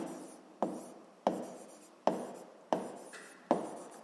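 Pen strokes on notebook paper during a seventh-grade physics exercise come as six separate scratchy taps about every half second to second. Each one starts sharp and fades, close and quiet, with no voices.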